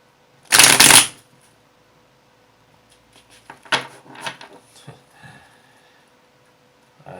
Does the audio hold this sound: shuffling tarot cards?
yes